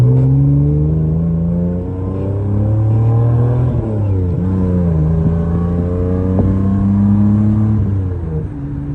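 Nissan 240sx with an RB20 engine driving and revving, the engine note rising and falling through the gears, loud and close from inside the car with a steady drone between pulls.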